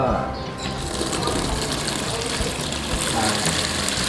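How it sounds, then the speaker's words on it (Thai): Tap water gushes and runs steadily from a turned-on faucet during a household breaker and leakage test, a loud continuous rushing wash that fills the whole stretch with little change. "ทีนี้ผมจะทำการเปิดน้ำนะครับ"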